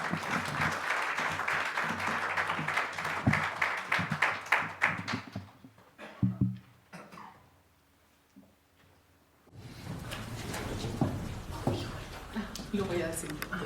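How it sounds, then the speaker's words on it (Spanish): Applause welcoming a soprano at an academic year opening ceremony, a full round of clapping that builds and then tapers into a few last claps and quiet before speech resumes. "La recibimos con un aplauso."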